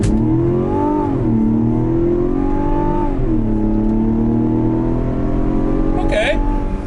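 A 2024 Mazda CX-90 AWD engine pulls hard at full throttle in sport mode, revving up loud and close, with two clear upshifts dropping the pitch before it climbs again.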